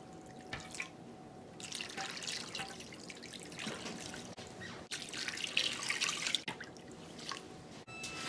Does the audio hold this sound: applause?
no